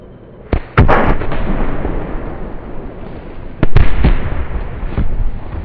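A grenade goes off in a video game military battle, two loud close blasts a few seconds apart, each with a sharp crack and a rumbling tail.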